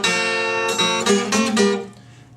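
A guitar plays a blues turnaround in G, a short run of bright plucked notes ringing out close and clear before fading.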